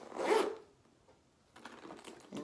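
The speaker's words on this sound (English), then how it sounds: "Okay, so it has a zipper at the back" Zipper on a Louis Vuitton bumbag: one quick, close zip burst at the start, then a quieter pause and a second stretch of softer, ragged zipping and fabric handling toward the end.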